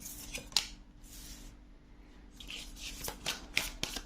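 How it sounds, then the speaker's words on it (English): Crisp riffling bursts of cards being shuffled, several quick flurries separated by brief pauses, close up with no talking. "I'm just going to be shuffling these cards one at a time"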